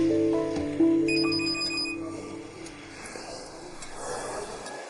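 A telephone rings with a steady electronic tone over a soft musical background, the ring sustained for about two seconds before fading into quieter ambient sound.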